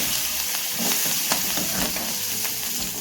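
Curry leaves and chillies hit hot oil for tempering a green gram curry, giving a steady, close, loud sizzle with scattered crackles and no voices.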